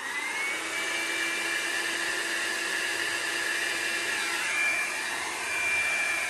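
A hair dryer runs steadily throughout, drying alcohol ink for swirl and ring textures, a loud constant whine with an even broadband roar from start to finish.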